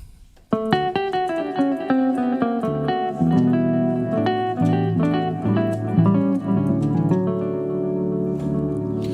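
Guitar patch on a Yamaha PSR-style keyboard with effects switched on, a flowing solo line whose notes ring and smear into each other with a reverb-like tail, steady and moderately loud.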